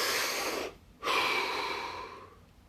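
A deep breath, drawn in audibly and then let out in a second long exhale after a brief pause, close and fairly loud with no talking.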